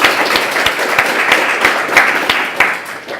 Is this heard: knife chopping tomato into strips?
no